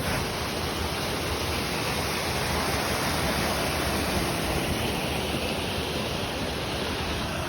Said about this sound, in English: We've made it to the waterfall. It's huge.